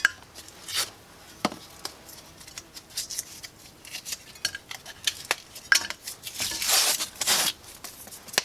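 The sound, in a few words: broken plasterboard pieces handled in a pan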